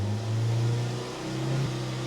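A Mazda MX-5 NC with a ram air induction kit is held at raised revs around 4,000 to 5,000 rpm, a loud, steady engine hum with slight wavering pitch, close by and without talk.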